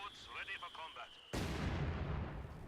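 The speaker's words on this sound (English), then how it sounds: "German mortar" A German mortar fires in Company of Heroes 2, one sudden heavy boom cutting in partway through and rumbling on loudly to the end, after a stretch of someone commentating over faint game sounds.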